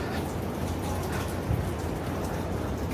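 Water spray washes down a building on a Midtown Manhattan street, a faint, steady hiss and patter like rain with one brief splash in the middle.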